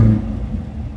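Exhaust rumble from a Chevrolet Corvette 3LT convertible just after the engine starts, a brief deep low growl that settles into a steady idle close by.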